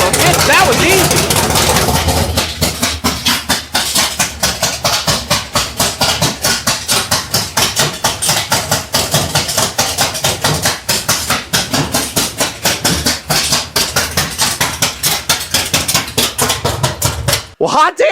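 A 503ci big block Ford gasser engine fires up and runs loud and close, its rapid, lumpy firing pulses holding steady before cutting off abruptly near the end, with a voice talking over it.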